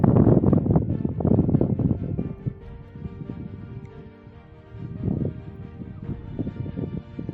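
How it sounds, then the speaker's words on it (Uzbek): Wind rumbles and buffets against the microphone in gusts at Qalajiq, Bogʻot district, Khorezm, Uzbekistan, loud at the start, easing in the middle, then swelling again toward the end. "Shamol bor tepada."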